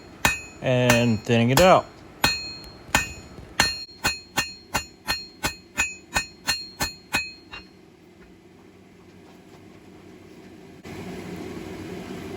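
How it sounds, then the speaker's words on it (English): Blacksmith hammering hot square bar stock with half face blows while drawing it down, a steady series of about fourteen loud ringing strikes after brief speech, then quiet with a hiss near the end. "I'm drawing it down, keeping it square, half face blows,"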